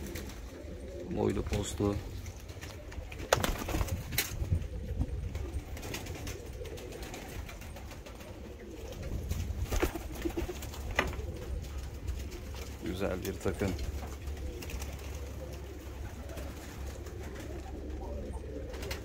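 Pigeons coo softly and intermittently in a loft full of show breeds while someone talks over them at length, with low rumbling background noise throughout.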